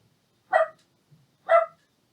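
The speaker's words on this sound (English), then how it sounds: "Oz is barking because the Amazon guy was just at the door." A dog barks twice indoors at home, two sharp, fairly loud barks about a second apart, with a faint low sound between them.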